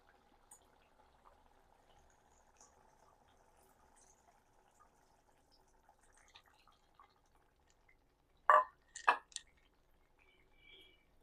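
Tamarind extract poured into simmering garlic gravy, a brief splashing pour and a couple of close liquid splashes after a quiet stretch of low cooking hiss.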